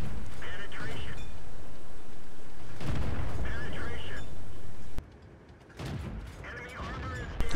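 Heavy booming tank cannon shots and rumbling battle noise from a tank video game with a T21 on a swamp map, several loud blasts separated by pauses, with a voice talking over the action.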